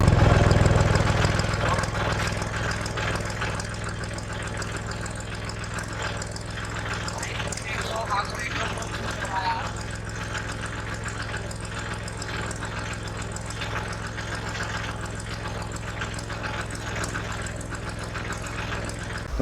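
A parked farm tractor's diesel engine chugging steadily at idle near a tubewell in the fields, a continuous low throbbing drone that stays even throughout after a slightly louder start.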